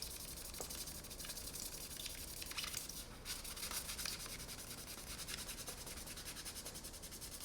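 A Mr. Clean Magic Eraser scrubs sticker residue off fishing tackle, giving a continuous, close scratchy rubbing with a rhythmic back-and-forth texture. It stays steady and fairly faint throughout, with no one speaking.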